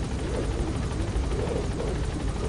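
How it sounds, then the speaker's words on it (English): A helicopter's steady, rumbling engine and rotor drone fill the scene continuously at a constant loud level, in the video game Metal Gear Solid. "Gotta get in the helicopter."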